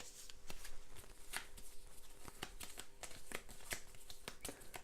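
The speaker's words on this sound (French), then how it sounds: "On va défausser une carte." Cards from an Arkham Horror card game deck are handled and discarded on a table, giving quiet close-up flicks and soft slaps in an uneven rhythm, faint and without speech.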